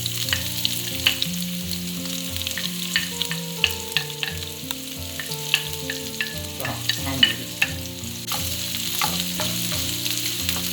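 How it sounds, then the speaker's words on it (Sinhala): Garlic and onion frying in hot oil at the start of a stir-fried okra dish, giving a steady, close sizzle with small crackles and pops that carry on throughout with no talk. "දැන් මේ ලුණු ටික විනාඩියක් විතර හොඳට ටෙම්පරේචර් ගන්න ඕන."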